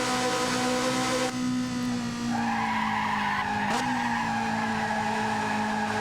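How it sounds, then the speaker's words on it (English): Engine of a Ferrari F355 in a Dreamcast racing game, droning steadily loud throughout, its pitch dropping and then climbing in a downshift, with a brief tire-squeal-like break midway. "I love that downshift in the frickin' Ferrari F355"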